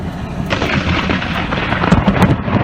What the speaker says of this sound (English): The South pummeled by severe thunderstorms.